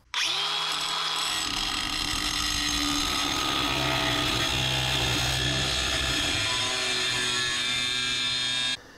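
A power tool cuts a small steel brace during a front suspension rebuild on a flood-damaged Corvair. It makes a loud, steady, close whine that runs almost unbroken for about nine seconds, with no voices.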